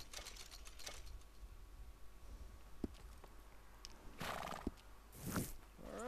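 A horse whinnies twice in a video game, with a first shorter neigh followed by a louder, longer call near the end, over a steady low background hum and a few light clicks.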